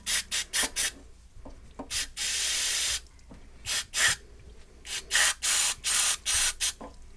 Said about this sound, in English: then just shoot it out with brake clean